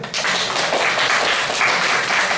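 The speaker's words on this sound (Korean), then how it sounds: "박수 한번 주세요" A crowd applauding steadily at a grip-strength contest, dense clapping sustained at an even level for a couple of seconds.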